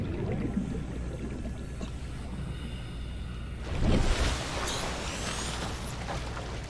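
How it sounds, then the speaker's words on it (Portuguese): Cyclops submarine engine in the video game Subnautica, a steady low rumbling drone with watery ambience that swells briefly louder in the middle before settling back, with no talking. "Ah, o motor do Cyclops"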